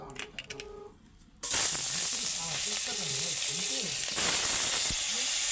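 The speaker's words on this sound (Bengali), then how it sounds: "দেখো বন্ধুরা কই মাছগুলো ভাজা হয়ে গেছে" Salted, turmeric-rubbed koi fish drop into hot oil and burst into a loud, steady sizzle that holds after a short quiet start, with a brief surge near the end.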